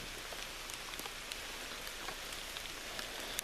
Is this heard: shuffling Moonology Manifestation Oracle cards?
no